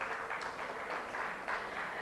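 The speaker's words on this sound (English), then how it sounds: "Give him a big round of applause." A group applauds in a steady patter of clapping, moderately loud and continuous throughout the short stretch.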